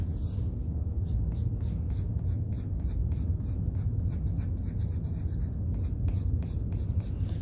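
A pencil hatches curved marks on paper while shading a pumpkin drawing, with a steady run of quick, rhythmic scratching strokes close up over a low background hum.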